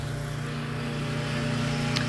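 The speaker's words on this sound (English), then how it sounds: "excuse the noise, my dad is cutting the grass" A petrol lawn mower cuts grass close by, its engine holding a steady, continuous drone for the whole short stretch at an even level, with no talk over it.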